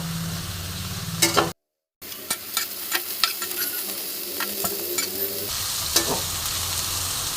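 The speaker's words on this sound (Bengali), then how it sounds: "এবার আমি পটলটা ফোড়নের মধ্যে দিয়ে দেব এবার বন্ধুরা আমি ভালো মতো নাড়াচাড়া করবো" Pointed gourd fries in oil spiced with black cumin and green chilli, giving a close, constant sizzle while a utensil stirs and scrapes in repeated sharp strokes, with one brief break in the sound.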